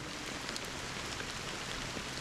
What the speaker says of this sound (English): So, how long has this rain been going on for?